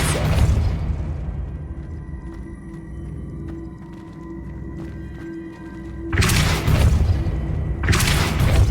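Depulso spell cast in Hogwarts Legacy: two forceful whooshing thumps with a brief crackle arrive close and loud after a quiet stretch of low humming ambience, with no talk.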